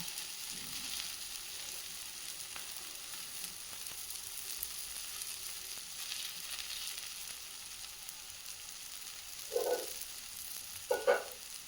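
Ragi adai cooking in a pan over a low flame, with a faint, steady sizzle and two short, sharper knocks near the end, quiet and close, no talking.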